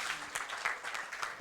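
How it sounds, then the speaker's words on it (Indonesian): A church congregation claps briefly in a quiet, scattered patter that sounds distant. "Tepuk tangan untuk Tuhan Yesus."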